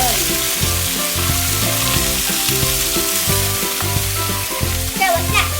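Chop suey with onion sizzles in a hot pan over high heat, a loud, steady frying hiss broken by the scraping and clatter of stirring.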